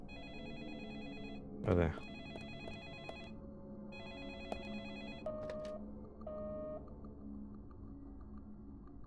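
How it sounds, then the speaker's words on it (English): An old telephone ringing in the video game Deadly Premonition, a repeated electronic bell tone pulsing on and off at moderate volume, with a thump early on and someone briefly speaking over it. "Crusty old phone. Where are you hiding?"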